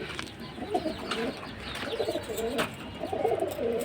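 Spring-neck (gola kosha) pigeons coo repeatedly in soft rolling phrases after being let out, several birds overlapping at close range with light flutters.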